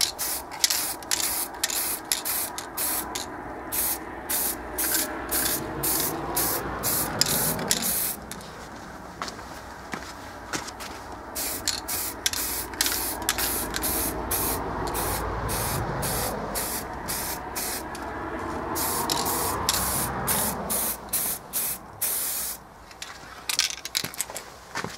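Rust-Oleum metallic chrome spray paint hissing from an aerosol can in repeated short bursts with brief pauses, close and steady, and no voices.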